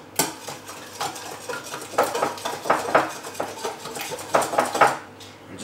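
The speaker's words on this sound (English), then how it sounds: "It's gonna whisk them all together just really quick to get them all combined." A whisk clinks briskly against a bowl, mixing sugar, cinnamon and vanilla extract for bread pudding in a steady run of quick, close metallic taps with no talk.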